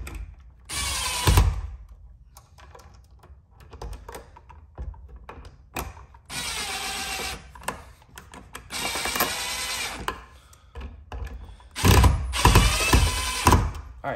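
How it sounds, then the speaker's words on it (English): A screwdriver driving screws to fasten an electrical receptacle into its wall box, heard as short bursts of ratcheting, whirring mechanical sound separated by quiet pauses, close and moderately loud with no talking. "Screw it inside to complete."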